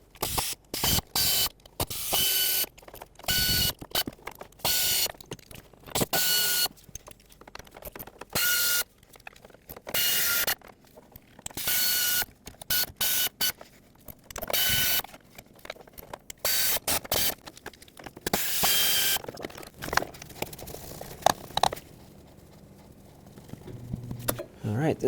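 Ratchet and wrench working 8mm valve cover bolts loose on a 5.4L Ford F-150 V8, 1997-2003: bursts of rapid clicking and spinning, close and crisp, broken by short pauses.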